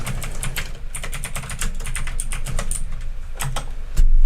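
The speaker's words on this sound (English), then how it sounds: "with all caps, we're gonna type" Fingers type on a computer keyboard in quick, irregular clicks and taps, close and clear, ending with a heavier keystroke; no one speaks.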